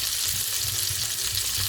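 Asparagus with coriander fries in a pan with a constant bright sizzle, close and steady, with faint stirring underneath and no voices.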